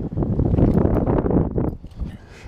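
Wind gusts at a cold-water winter catfishing spot, heavy low buffeting rumble against the microphone that swells and then eases near the end, close and loud.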